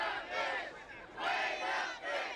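Crowd at the Big Rock marlin fishing tournament weigh-in, reacting over a 600-plus-pound marlin, swells in loud, roaring bursts of shouting, rising twice and fading between surges.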